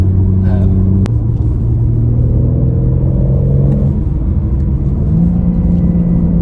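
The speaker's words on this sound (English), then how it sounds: "Driving this car on a mountain pass like this is absolutely incredible." A BMW G82 M4 Competition drives hard on a mountain pass, its engine note climbing and shifting between gears over constant loud road and cabin rumble, with a sharp click near the start.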